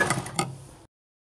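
A sewing machine stitches the pocket of a half-elastic pant in one short mechanical burst of needle clatter, under a second long and close by, then cuts to silence.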